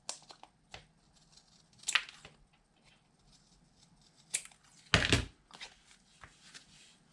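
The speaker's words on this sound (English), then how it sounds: "all I'm doing is just trimming off this excess." Scissors trimming excess material from the edge of a dry-erase clipboard: a few quiet snips and paper rustles spread out over the clip, with one louder cut near the end.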